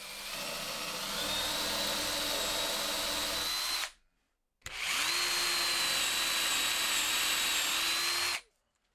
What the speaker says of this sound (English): then I'm going to get some holes drilled for some threaded inserts